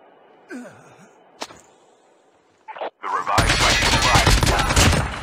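Gunfire in a solo-versus-squad battle royale video game: a single sharp shot, then a dense loud burst of rapid automatic fire, preceded by quiet in-game ambience and a short breathy sound.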